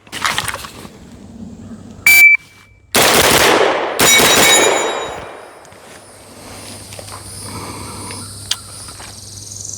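A Palmetto State Armory AR-V 9mm pistol-caliber carbine fires loud, close bursts of blasts in quick succession. Short gaps separate the bursts, a sharp beep sounds early, and a ringing decay trails off afterward.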